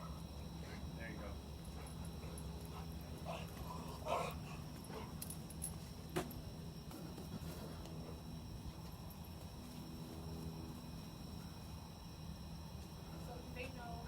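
A Dutch working dog whimpers and gives a few faint yips at a distance, outdoors, beneath people talking over a steady background hum.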